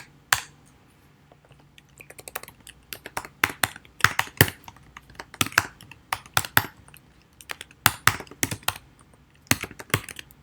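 Rapid, irregular keystrokes on a computer keyboard as a web address is entered, crisp clicks in quick bursts with short pauses, close and clear with no talking.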